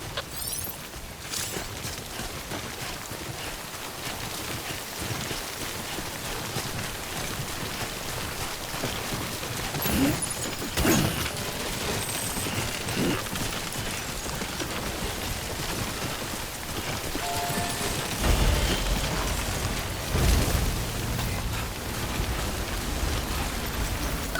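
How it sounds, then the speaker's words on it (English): Steady hiss of falling rain, the timefall of the video game Death Stranding, spread across the whole span with scattered louder crackles and a denser swell near the end, no speech. "Don't stay out in the rain any longer than you have to."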